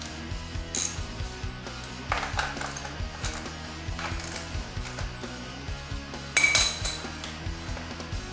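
A ratchet works on 10mm bolts of a 2008 Yamaha WR250X in quick, close metallic clicking runs, with occasional clinks of tools and metal mixed in.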